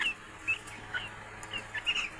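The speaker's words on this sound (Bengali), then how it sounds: "আমি আমার ফার্মের প্রত্যেকটা মুরগি আপনাদের দেখাই" Faint, scattered high peeps and chirps from chickens over a low, steady background hum.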